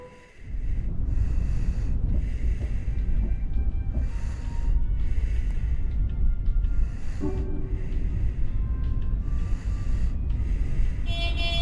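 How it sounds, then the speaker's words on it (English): Strange, heavy breathing fills a car's back seat, rhythmic snorting breaths repeating loud and close, about six or seven long pulses in steady sequence with a faint high tone near the end. "The weird breathing."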